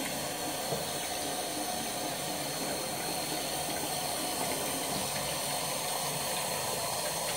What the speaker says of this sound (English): let's start the hot water.